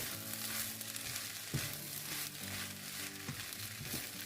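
Kale stir-fries in a hot pan for shrimp fried rice with chili sauce, giving a steady close sizzle with occasional scraping stirs, under soft background music.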